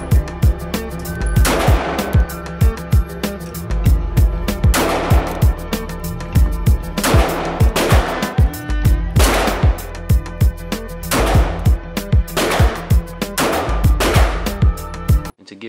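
Repeated close gunshots from a Ruger LC9 pistol at a shooting range, some fired as quick doubles and others spaced about a second apart, loud and sharp throughout.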